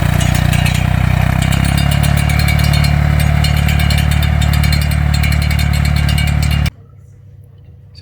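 Tractor engine pulling a corn planter across farm land in Portugal, a loud steady droning roar close by that runs continuously and then cuts off abruptly near the end.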